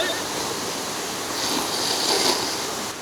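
A waterfall roars as a steady, dense broadband rush, loud and close, with no pause across a short stretch at an Indonesian tourist spot.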